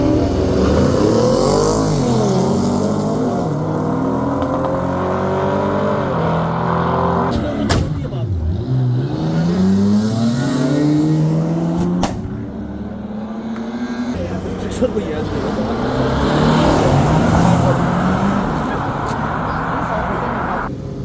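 Cars and a motorcycle race on a European street, with engines roaring, revving hard and sweeping past close by in repeated loud passes, while voices sound underneath throughout.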